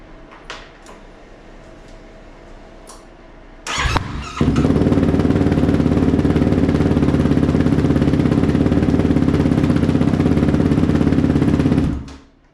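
A 2023 Yamaha YFZ450R SE ATV with a Vortex ECU, Rossier R5 exhaust and GYTR intake cranks briefly, then fires and holds a loud, steady, close-up idle for about eight seconds before cutting off.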